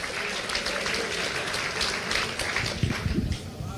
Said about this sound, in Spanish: Ustedes aplauden, pero él no aplaudió.